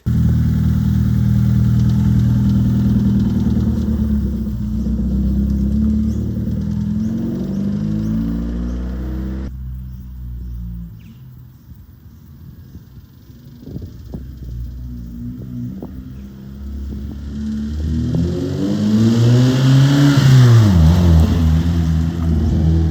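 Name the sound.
1997 Hyundai Coupe SFX engine idling and revving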